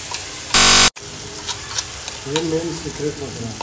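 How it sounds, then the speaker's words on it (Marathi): Spice paste hits hot oil for a biryani tadka while onion roasts on the side: a loud burst of sizzling at the start, then a steady frying hiss with scraping and stirring, and a brief tonal tone later in the clip. "पेस्टलाही छान तडका देत आहोत तेलामध्ये"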